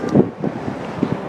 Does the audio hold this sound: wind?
yes